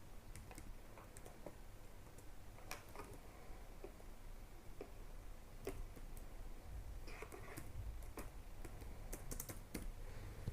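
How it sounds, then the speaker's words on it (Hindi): Steady typing on a computer keyboard, rapid irregular key clicks with a few sharper taps over a constant low background hum, no voices. "ये हमने यहाँ पे टाइप किया है"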